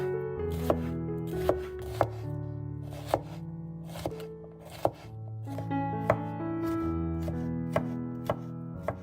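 A knife chops bell peppers on a cutting board, about a dozen crisp, close strikes in an uneven rhythm, with no talk.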